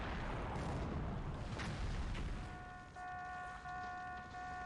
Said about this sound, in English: Something just ran into a mine somewhere.